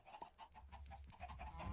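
Chickens cluck in repeated short bursts in Minecraft, a dense cluster of fowl calling over and over at close range, with a low hum underneath.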